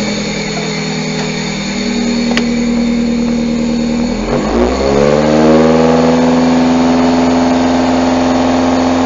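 A freshly rebuilt car engine fires on its first crank, then settles into a loud, steady idle after a brief dip and catch in the running note, heard close up with no talk.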